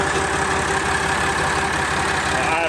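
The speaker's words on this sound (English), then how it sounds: "Now you'll hear that pump kick on when I let off the clutch." Massey Ferguson 240 tractor engine idling at about 750 rpm with its hydraulic pump running, a close, steady low rumble with a faint whine riding above it.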